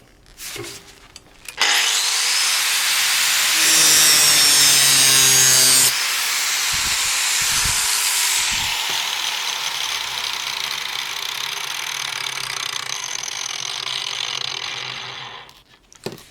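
A Dewalt DWE4217 125mm angle grinder gives a loud, continuous high-pitched grinding whine cutting material, steady for most of the stretch, with a brief harsher burst early on.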